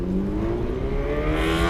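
Cars moving along a city street in Japan during the evening commute, a steady close engine hum and tyre whir with a gradually rising revving tone, no voices.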